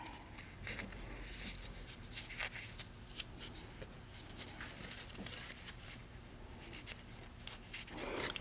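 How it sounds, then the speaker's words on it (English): Scored paper is folded by hand into a tea light candle holder, producing faint, close crinkles, soft creasing scratches and light handling rustles throughout. "So now I'm just going to fold these parts as well."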